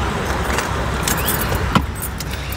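A bunch of keys jingles close by beside a car on a road trip, a short bright rattle over a steady outdoor background with one sharper clink, and no talking.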